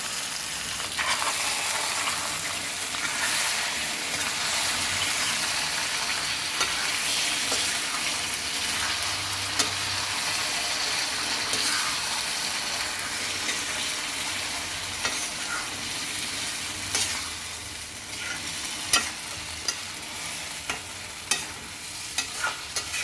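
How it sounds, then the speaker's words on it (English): Red chicken in a pan is stirred over a constant sizzle of frying, with scraping and occasional light clicks of the spoon against the pan, close and continuous throughout. "let us mix this nicely and add 1 cup of water and cook this"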